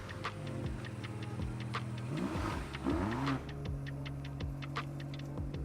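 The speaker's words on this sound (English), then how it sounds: "Love the exhaust note when you fire it up" A 2023 BMW XM fires up, its engine catching with a brief rising rev and then settling into a throbbing idle exhaust note, heard close alongside steady ticking clicks.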